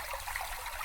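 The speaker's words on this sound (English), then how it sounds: "I could definitely hear a faint trickling nearby" Faint, steady trickling of river water in The Divine Speaker video game, a brief, soft, even wash of running water with no voices.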